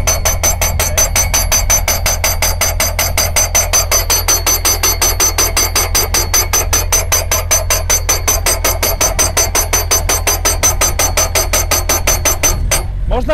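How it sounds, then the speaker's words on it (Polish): A hydraulic pile driver pounds posts into the ground on a farm construction site, delivering a loud, rapid, steady train of metallic hammer blows for the whole stretch before abruptly stopping at the end. "No to jest kafar hydrauliczny, tym kafarem wbijamy słupy do projektowanej, na projektowaną głębokość"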